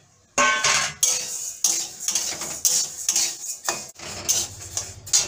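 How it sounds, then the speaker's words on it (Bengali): Mung dal dry-roasting in a kadai on a gas stove, stirred with a metal spoon that clatters and scrapes against the pan in quick, uneven strokes, close and fairly loud. "আমি গ্যাসে কড়াইটা বসিয়ে দিয়েছি, মুগ ডালটা প্রথমে শুকনো গোলায় ভেজে নেবো।"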